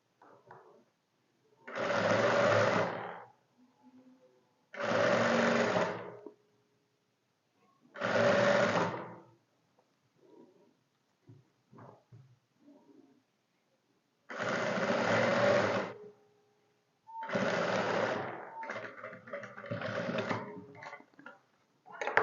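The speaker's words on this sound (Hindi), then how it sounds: "बिल्कुल किनार पे सिलाई लगा दें इसको।" A sewing machine stitches right along the edge of a shirt in loud, close bursts of rapid whirring, each lasting one to two seconds, separated by quiet pauses and faint handling noises.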